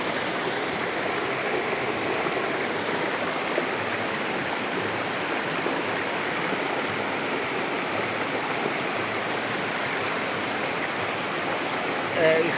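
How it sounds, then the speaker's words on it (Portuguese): Waterfall in Brazil pouring into a stream, a steady, dense rush of flowing water filling the whole stretch without breaks, close and constant. "um banho de cachoeira."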